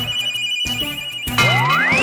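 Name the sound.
phone ringing for a video call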